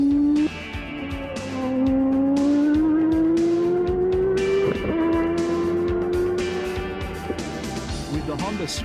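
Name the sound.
Honda IndyCar engine screaming at high RPM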